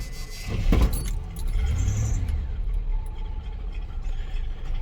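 A 1986 Chevy K30 truck cold-starting after a jingle of keys: the starter cranks, then the engine catches and settles into a rough, uneven idle, close and fairly loud, with no talking.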